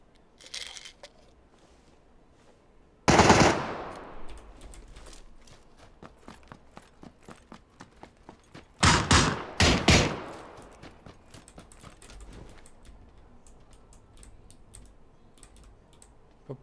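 Gunfire in the video game PUBG: one loud shot with a trailing echo, then two close bursts several seconds later, set against constant nearby keyboard clicking.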